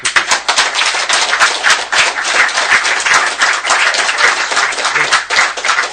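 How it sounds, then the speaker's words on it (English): A conference session audience at an amateur satellite event claps in a loud, close round of applause, sharp individual hand claps densely overlapping for several seconds. "could you please give these guys a round of applause?"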